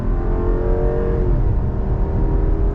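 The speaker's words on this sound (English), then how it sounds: "Yeah, that's what I like, that V8 grumble" A 2021 Jeep Grand Cherokee L V8 accelerates from a stop in sport mode, giving a loud, steady low grumble with the engine note climbing and then dropping into the next gear, heard from inside the cabin.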